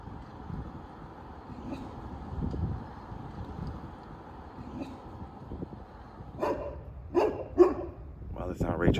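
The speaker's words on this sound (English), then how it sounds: "Well, it's not Ray Charles' dog, but there it is" Dog barking outside a hillside house in Windsor Hills, Los Angeles, a few sharp barks bunched near the end over steady wind and outdoor background, with someone talking close to the microphone throughout.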